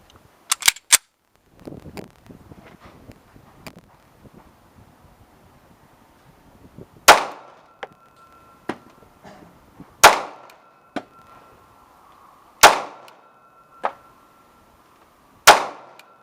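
Sig P239 9mm pistol fired at an outdoor range from about six yards: a quick burst of three shots, then a few scattered sharp cracks about every three seconds, each loud with a short ringing tail and faint handling noise between.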